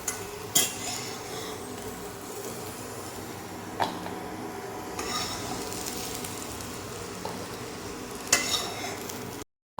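Fried potatoes are lifted out of a pan, with a soft oil sizzle, scraping utensil sounds and a few sharp clinks, all quiet and close, with no talking.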